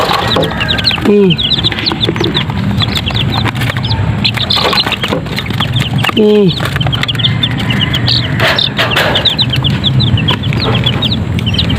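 Newly hatched chicks peep in rapid, high repeated chirps close by, alongside lower clucking from farm fowl, continuous and loud throughout.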